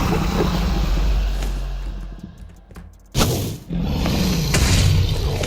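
A deep booming Minecraft explosion rumbles and fades, then after a brief lull a second sharp burst hits with a crash and continues as loud, dense noise.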